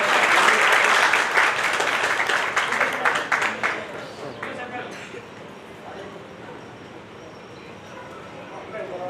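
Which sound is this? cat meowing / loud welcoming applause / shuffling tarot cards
loud welcoming applause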